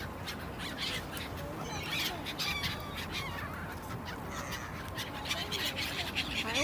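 Seagulls gathered at a frozen lake in Tianjin being fed bread, a dense chorus of overlapping squawks and calls from many birds at close to middle distance, with faint voices in the background.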